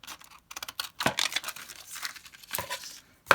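Scissors cut through crinkly plastic packaging holding Dollar Tree gems, giving close, loud snips and crackles in irregular bursts with short pauses between.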